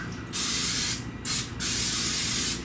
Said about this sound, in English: you can spray them with a non-stick oil spray, which is what I'm going to do now